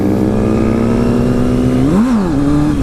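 Loud, close sport bike engine held at a high steady rev, with a quick blip up and down near the end, no voices over it.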